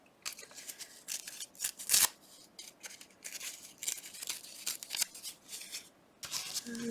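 Paper printed to look like fabric is torn and handled for a sewing-journal collage, with a string of short, crisp ripping and rustling bursts close up, one louder tear near the middle, with no talk.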